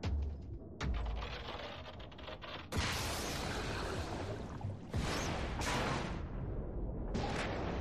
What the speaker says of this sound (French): Magnifique, magnifique explosion.